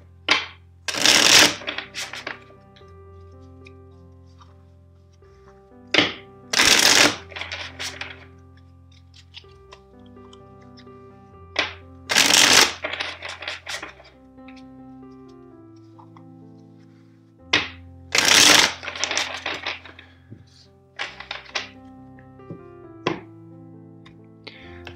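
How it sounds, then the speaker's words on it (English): A tarot card deck is shuffled in four separate bursts of quick riffling and flapping cards, each a few seconds long, with quieter tapping and handling of the cards between them. "First, let's shuffle the deck four times for you."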